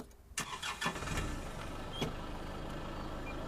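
A Kubota HST Plus tractor engine cranks and catches with a few sputters, then settles into a steady idle rumble close by.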